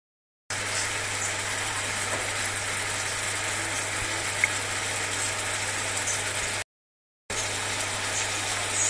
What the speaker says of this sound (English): So we're just frying the onions to get it translucent.